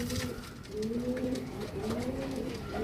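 Tooniyan pigeons, an original breed, coo close by in soft, repeated rolling calls that rise and fall over a quiet background hiss, with no talking.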